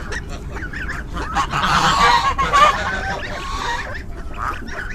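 A flock of village geese honks loudly and all at once, the calls swelling to a dense chorus in the middle and then thinning to scattered honks, with no one talking.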